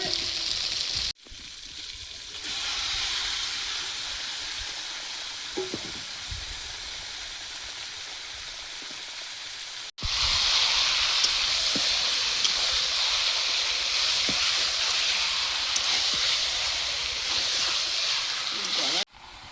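Chicken goes into hot oil and spices in a pan for Bengali chicken kasha and sets off a loud, steady sizzle with a hiss of steam, which jumps louder after a brief break about halfway through.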